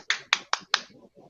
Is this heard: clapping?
yes